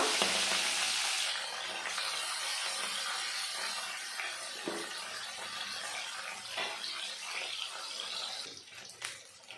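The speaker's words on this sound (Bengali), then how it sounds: "মাছগুলো ভেজে নেব" Steady hissing sizzle of fresh local fish frying in hot oil, with occasional soft clinks and stirring sounds, fairly quiet and continuous.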